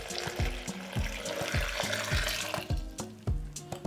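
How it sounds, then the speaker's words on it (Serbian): About 250 ml of water poured into a blender holding chopped ginger and lemon, a steady watery splash running close by throughout, broken by soft repeated thumps. "I na kraju ću dodati 250 ml vode."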